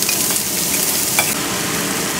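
Vegetables sizzle steadily in a hot pan, a dense continuous frying hiss with faint stirring clinks, close and fairly loud with no voices.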